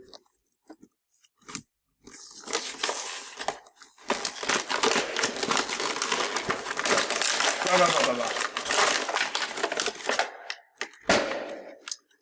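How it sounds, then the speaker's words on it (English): A Transformers toy figure being pulled out of its plastic packaging, with close, busy crinkling, crackling and snapping that runs for about nine seconds after a few isolated clicks. "The first thing to do is remove the figure from the packaging"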